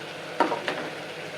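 Rice tipped into a pan of half-sautéed vegetables for a one-pot kootu rice: a steady background sizzle with two brief scraping stirs close by, no talk.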